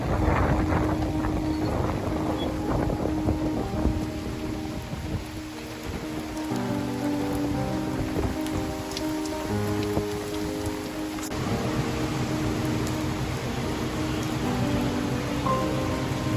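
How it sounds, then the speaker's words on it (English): Rain patters steadily on a golf course, with gusts of wind buffeting the microphone and a low engine hum running underneath throughout. "I just felt a raindrop, so you gotta get moving."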